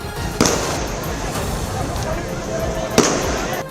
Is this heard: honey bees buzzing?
no